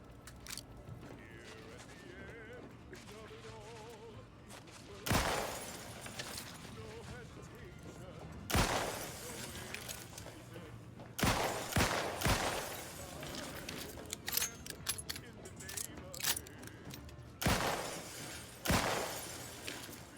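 Upgraded gun firing in The Outer Worlds 2, a handful of sharp, loud cracks spaced seconds apart, some in quick pairs, over a low game hum with occasional talk between shots.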